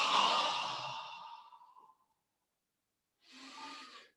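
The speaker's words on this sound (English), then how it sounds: "Breathe in." A long sigh-like exhale during a yoga breathing exercise fades over about two seconds, then after a brief pause a shorter breath follows, close and soft with no talking.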